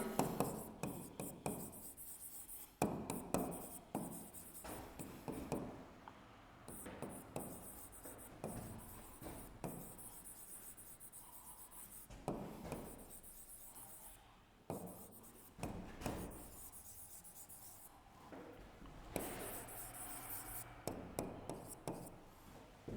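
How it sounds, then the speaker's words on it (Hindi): A sentence is written by hand, probably with chalk or marker on a board, producing quiet scratching strokes in short bursts separated by brief pauses, close and with no speech. "इसी क्रम में मैं एक सेंटेंस लिखता हूं यहाँ पे"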